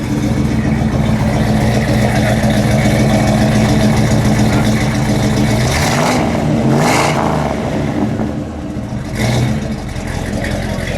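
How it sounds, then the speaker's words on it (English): A 1959 Dodge Custom Royal idles with a deep, steady exhaust rumble, then revs sharply twice, the pitch rising and falling with each burst. "That's what I wanted to hear. Let me hear that exhaust note."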